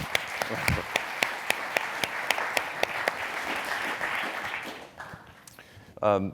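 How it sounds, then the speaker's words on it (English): A room of people claps for a volunteer at a talk on mindfulness and leadership, with steady applause and a few sharp individual claps standing out, before it thins and a voice begins near the end. "a round of applause for Ramon."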